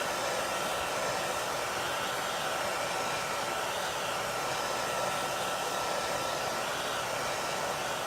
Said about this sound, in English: So you just use your basic hair dryer